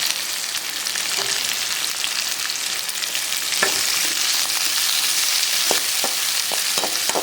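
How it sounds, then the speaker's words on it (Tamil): Garlic, onion and green chili sauté in a pan with a constant bright hiss of frying, broken by a few sharp scraping taps of a spatula near the end, close up with no voices. "பூண்டை வதக்கும் போதே நம்ம வெங்காயத்தையும் ஆட் பண்ணிடலாம் பச்சை மிளகா கரு நல்லா பேசிட்டு நல்லா வதக்க வேண்டியிருக்கேன்"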